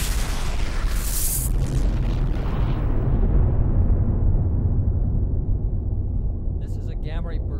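A massive, loud explosion rumbles continuously, its deep roar slowly fading, with a faint crackle and warbling tones near the end.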